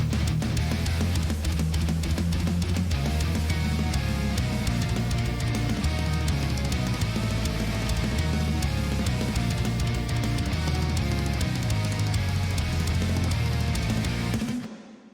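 A heavy metal guitar mix from a HyperRig and a Kiesel guitar plays loud and dense, with chugging riffs and driving drums that run steadily before cutting off abruptly at the end.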